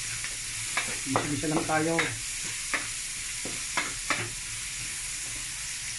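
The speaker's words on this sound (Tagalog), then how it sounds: "sunugan na po natin ang sibuyas" Chopped onion frying and being stirred in a pan for Batangas-style radish kilawin, a soft steady sizzle with scraping strokes of the utensil; a voice speaks briefly partway through.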